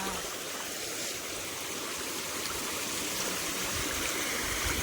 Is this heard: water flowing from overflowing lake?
yes